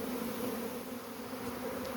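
A swarm of honeybees hums steadily near the entrance of a hive as they walk inside, a dense continuous drone with no voices over it.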